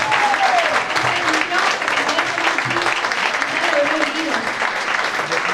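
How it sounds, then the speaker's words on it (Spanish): A church congregation claps together in sustained applause during a service, loud and steady throughout, with a voice speaking over the clapping. "Bríndale un fuerte aplauso a gratitud a nuestro Dios"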